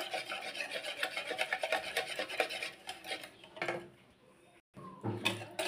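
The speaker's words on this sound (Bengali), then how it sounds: "দেখেন এইভাবে সুন্দরভাবে মিশিয়ে নিতে হবে।" A whisk or spoon rubs and scrapes steadily around a bowl, mixing egg into cooled milk for a caramel pancake batter, close and continuous with a brief pause near the end and no talking.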